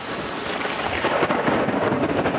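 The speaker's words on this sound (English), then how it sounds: "the drone can't fly in all this pouring rain" Heavy pouring rain falls in Madagascar with rolling thunder. The broadband downpour is loud and continuous, and deep thunder rumbles swell in the second half.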